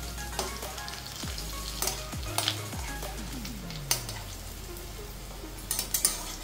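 Fish roe fritters sizzling in hot oil in a pan, a steady crackling fry with occasional sharp spatters and a few clinks of a utensil against the pan, no talking.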